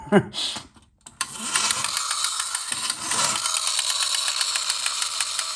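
A toy robot car's missile launcher gun makes a mechanical whirring buzz with rapid, steady clicking. It starts after a brief clatter and a pause, runs close and continuous, and dips briefly in the middle.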